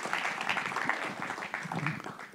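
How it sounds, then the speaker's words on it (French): Applause for Caroline and Mathieu at a volunteering conference in France: a moderate spread of clapping hands, fairly even and somewhat distant, holding steady throughout. "On peut les applaudir, Caroline et Mathieu."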